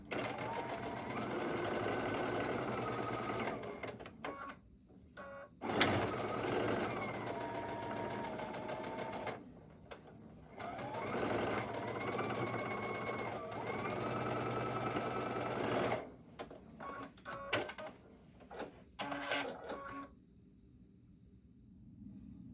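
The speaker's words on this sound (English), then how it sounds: "then we'll sew our last 1/4 inch seam and this block is done" A sewing machine stitches a quarter-inch seam on a quilt star block, running in long steady bursts of rapid mechanical whirring separated by brief pauses and shorter stop-start stitches near the end, close and fairly quiet.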